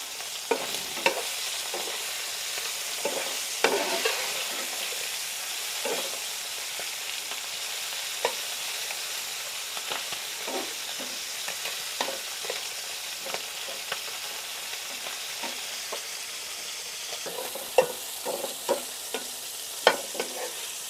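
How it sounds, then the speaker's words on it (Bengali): Small tengra fish fry in a pan over a village kitchen fire, a steady close sizzle broken by repeated clicks and scrapes of stirring, with no talking. "তো মাছগুলো আসলে একটু অল্প অল্প ভেজে নেব।"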